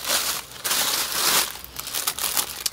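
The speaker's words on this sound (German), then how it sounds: "Hier ist schon mal so eine Tüte. Lilly denkt, das ist was für sie, aber ich kann schon sehen, dass es Heu ist" Crinkling of a plastic bag holding a hay sample, close and fairly loud, in irregular bursts of rustling and crackling with brief pauses between handlings.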